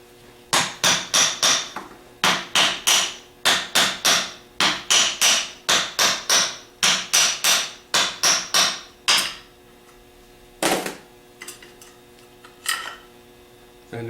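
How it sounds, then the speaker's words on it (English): Hammer taps on a starter drive housing clamped in a vise during a starter rebuild: about sixteen sharp metallic strikes in a steady, even rhythm, then a short pause and a few lighter knocks, all close and loud with no talking. "we're going to take a hammer and tap"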